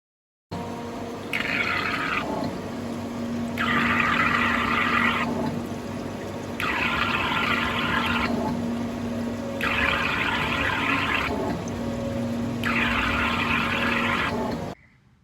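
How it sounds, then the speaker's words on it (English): An EDM machine with its servo motor switched on while machining: a steady mechanical hum with a low tone, overlaid by regular bursts of brighter noise roughly every two seconds, alone and fairly loud. "We switch on the servo motor and start machining."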